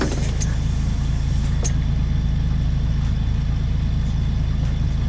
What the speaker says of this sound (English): I love the sound of this engine though